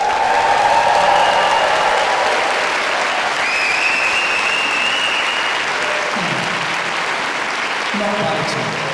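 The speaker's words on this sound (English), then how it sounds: "can you give them a huge cheer, please, ladies and gentlemen?" A large audience applauds and cheers after a school guitar concert at Warwick Arts Centre. Dense, steady clapping fills the whole stretch at high volume, with scattered whoops and whistles rising above it and voices mixed into the crowd noise.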